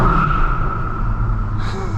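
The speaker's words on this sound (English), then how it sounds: "that tire screeching made a lot of noise" Tires on a VW MK8 GTI screech in a steady, loud squeal during a quick gear shift, held over a low engine rumble throughout.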